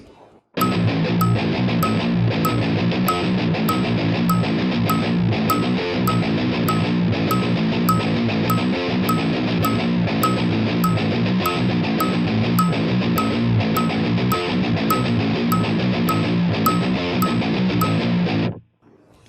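A repeated electric guitar riff plays continuously for about eighteen seconds, loud and steady with a driving rhythmic pattern, then stops abruptly.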